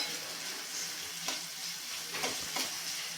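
Bread upma being stirred in a frying pan, a steady soft sizzle with a few scraping strokes of the spoon, close and quiet, no talking.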